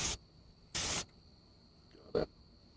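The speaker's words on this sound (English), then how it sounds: "You just tap spray" A spray paint can fired in short taps: three quick, fairly loud hisses at an uneven pace, with quiet gaps between them and the last burst briefest.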